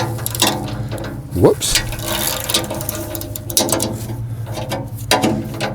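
A ratchet clicks rapidly as it tightens the bolts of a Piranha tooth bar clamped onto the cutting edge of a loader bucket, close and steady, with a man's brief exclamation partway through.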